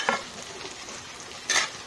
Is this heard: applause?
no